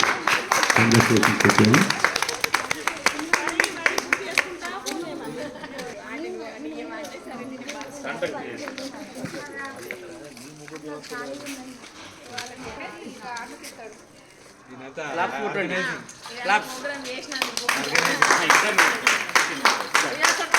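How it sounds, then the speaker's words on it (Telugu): An audience applauds for a sponsor at a Sankranti rangoli contest in Ganesh Nagar, Jagtial, with bursts of clapping at the start and again near the end, and a voice speaking in between. "మన హర్షధ్వనులతో ఒక్కసారి"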